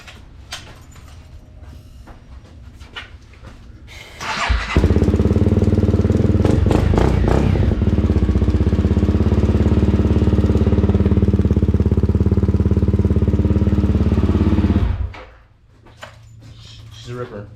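A Honda engine cold-starts in a garage, then settles into a loud, steady idle that drones for about ten seconds before cutting off, with a few quiet bits of talk before and after.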